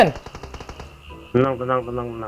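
A fast burst of automatic gunfire in the mobile battle royale game PUBG Mobile, with rapid close cracks for about a second, followed by someone speaking loudly.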